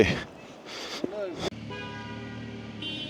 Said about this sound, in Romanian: Nu claxona